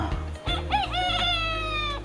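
A rooster crows nearby, a strained, shrill call rising then trailing off, with low background rumble underneath.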